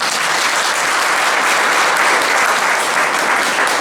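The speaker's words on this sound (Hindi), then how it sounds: "ताली बजाएंगे" Members of a congregation clap together during a Sunday church service, a loud, steady burst of applause that fills the room for several seconds with no talk over it.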